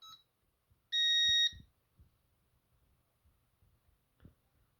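A Concord 4 alarm keypad sounds one steady, shrill electronic beep lasting about half a second, preceded by a brief chirp, with faint soft knocks and taps afterward in a quiet room.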